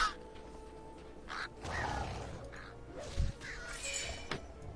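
Harsh cawing from a bird in World of Warcraft: Battle for Azeroth rises over busy game ambience, a few scattered calls of moderate loudness mixed with thumps and rustling effects.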